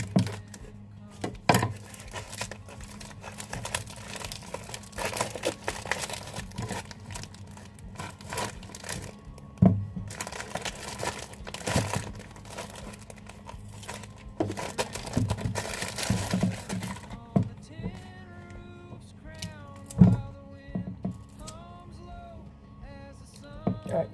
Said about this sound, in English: Alright, got them all out of the package.